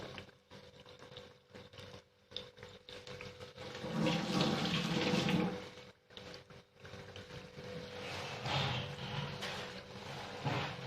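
Potato bhaji frying in hot oil gives a soft, fluctuating sizzle and bubble, faint and fairly close, swelling louder for a moment midway before settling back.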